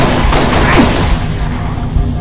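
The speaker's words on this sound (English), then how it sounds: "God, watch where you're shooting." Dense gunfire in a Halo Reach campaign battle, a loud continuous roar of overlapping shots and thumps, close and busy with a voice briefly mixed in.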